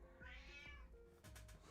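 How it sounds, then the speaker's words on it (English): A house cat meows once, a long rising and falling meow, close but quiet, followed by a few faint clicks and shuffling noises indoors. "I don't know if you guys can hear the cat"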